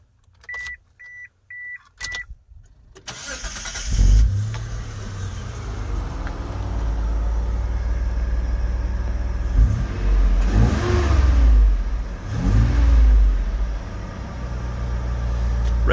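A 1994 Mitsubishi Delica Space Gear van chimes a few times as the key turns, then the engine cranks, starts, settles into idle and is revved several times, loud and close with no talking.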